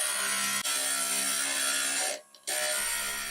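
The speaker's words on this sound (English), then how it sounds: "Then I'll use the grinder fitted with a 3/4 inch quick fit bit" A Techniglass glass grinder fitted with a 3/4 inch quick-fit bit, grinding the edge of a piece of glass with a steady, close motor whine and grinding hum that briefly drops out near the end.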